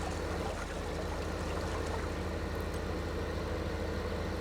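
Tractor engine idling steadily in the Farming Simulator 15 game, a continuous low mechanical rumble with a fine rhythmic pulse, fairly loud and close throughout, with no voices.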